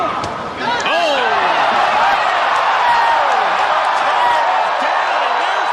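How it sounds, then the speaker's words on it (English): Boxing arena crowd roaring and whooping after a knockdown, a dense, loud swell of cheering that rises quickly and holds, with an announcer talking over it. "Down, and there's the crowd coming to life."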